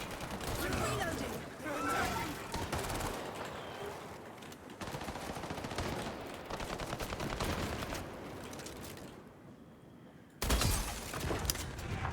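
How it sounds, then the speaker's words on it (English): Rapid video-game gunfire from Highguard fires in loud, dense bursts that run almost without a break, then drop to a quieter stretch before a sharp final volley, with a voice faintly present beneath the shots. "Firing on our foes."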